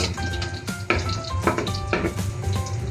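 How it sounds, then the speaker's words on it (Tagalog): Garlic and onion sauté in a hot pan for pakbet, a steady close sizzle and crackle with a few stirring scrapes breaking through, no voices. "sasangkotsahin muna natin yan hanggang sa mag-brown"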